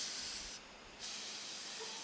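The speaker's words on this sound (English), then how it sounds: "I like to use brake parts cleaner. Spray off any residual" Two bursts of aerosol brake parts cleaner hiss loudly with a brief pause between them, close to the microphone.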